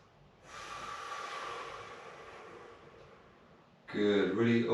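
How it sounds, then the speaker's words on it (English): A long, deep, breathy exhale during a gentle recovery workout lasts a few seconds up close, then fades as an instructor begins talking. "Breathe it away."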